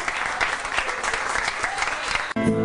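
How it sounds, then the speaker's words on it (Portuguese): A bar crowd bursts into loud, dense applause for a composer and poet. The clapping breaks off near the end as a tonal sound, like music or a voice, cuts in. "Uma salva de palmas."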